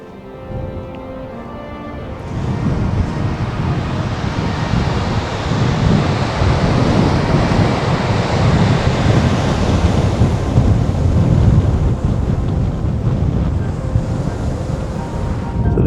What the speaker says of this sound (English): This is the mouth of the River Spey as it comes down to meet the sea.